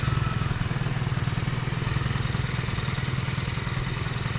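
A stock Honda Dio 50cc two-stroke scooter (AF27) runs close by, with a steady, rapid puttering beat of even pulses and a buzzy rasp that holds constant until it cuts off at the end.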